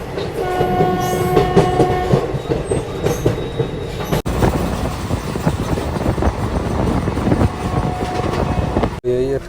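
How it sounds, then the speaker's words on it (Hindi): Express train overtaking the Hyderabad-bound East Coast Express after departing Balasore Junction, heard from aboard the Purulia–Tirunelveli SF Express: loud continuous rumble and clatter of the passing carriages with a long horn blast early on, close and sustained. "यहाँ हम लोग ओवरटेक कर रहे हैं Hyderabad bound east coast express को"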